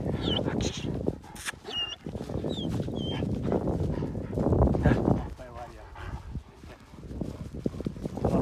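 Kangal dogs moving about outdoors in open country, with occasional yips and whimpers, scuffling and footfalls, and someone talking intermittently nearby.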